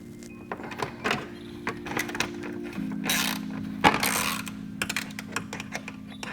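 Bolts on a carbon fiber rear diffuser of an MK7 Golf GTI are tightened with a ratchet, giving close, rapid clicking bursts over a steady low hum, with a few sharper knocks and no talking.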